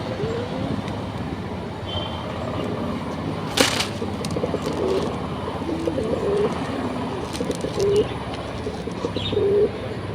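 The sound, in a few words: pigeons cooing while feeding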